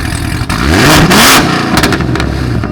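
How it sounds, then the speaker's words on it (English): A modified Corvette ZR1 V8 with long tube headers and X-pipe revs hard and close, swelling to a loud roar, dropping back, then snapping out a few sharp blips and pops. "Why don't you start it up and give us a couple revs?"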